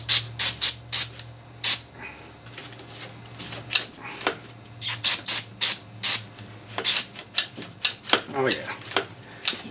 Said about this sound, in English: A little bit of brake clean.